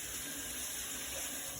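Warm tap water running into a sink for hand washing, a steady even hiss of flowing water close by, continuous without pause and with no talk.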